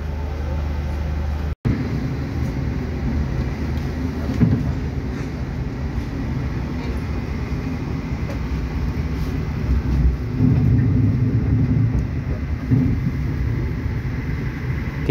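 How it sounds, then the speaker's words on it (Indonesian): Interior rumble of the KA Lodaya economy train pulling out of Kiara Condong station: a steady low droning roll with faint rattles and occasional knocks, one sharp clunk early on, and no talk. "Kita sudah kembali diberangkatkan dari stasiun Kiara Condong"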